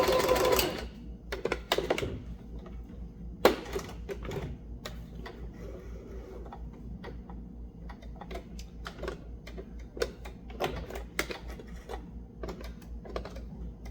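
A sewing machine stitches backwards and forwards off the end of handwoven fabric, giving bursts of rapid mechanical whirring broken by clicks and short pauses, close and clear with no talking.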